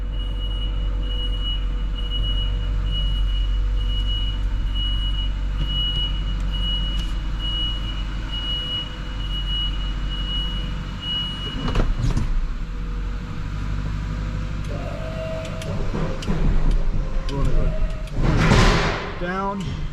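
A truck is driven inside a building to fill an indoor salt bin, its engine rumbling low and steady, with a warning beep, clanks and a door or gate rattling near the end.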